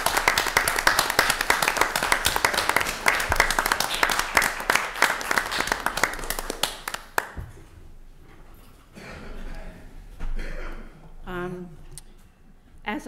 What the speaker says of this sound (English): I want to give her a round of applause because she stood by this town and by Henry for so long.